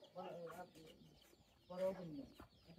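Native village chickens in a rural Bangladeshi yard cluck in two short, faint bursts, separated by a brief lull.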